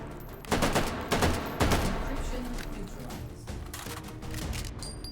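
Shotgun blasts in the VR shooter H3VR: a few sharp booming reports in quick succession near the start, followed by scattered fainter shots and game noise.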